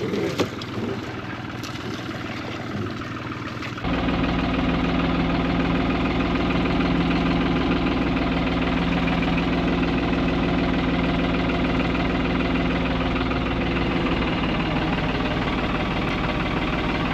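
A farm tractor's engine idles close by in steady wind, a loud, even, continuous rumble with a rhythmic knock that holds unbroken for most of the stretch after a quieter, gusty opening.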